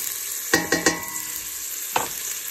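Onion frying in a little oil in a pot, with a steady high hiss of sizzle and a few sharp knocks of a utensil against the pot, no talk.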